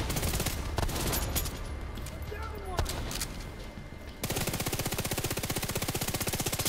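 Rapid gunfire rattles loud and close during a firefight in The Division 2, bursts of automatic shots before and after a brief lull with single cracks, a sniper among the shooters.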